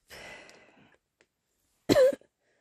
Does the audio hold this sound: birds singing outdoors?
no